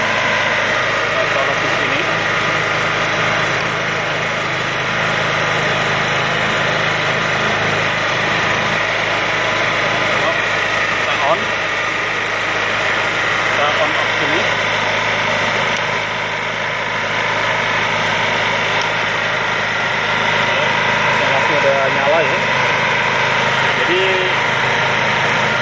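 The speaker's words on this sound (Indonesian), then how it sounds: "Itu suara gensetnya itu sangat halus sekali ya." A small welding generator engine, a Solid 125A, hums steadily and evenly throughout, with a faint light rattle and occasional quiet voices underneath.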